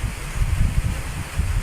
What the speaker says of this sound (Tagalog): sobrang lakas ng hangin. Kung naririnig nyo po.